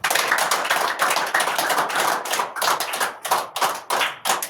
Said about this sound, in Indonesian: Budi berkata, tepuk tangannya.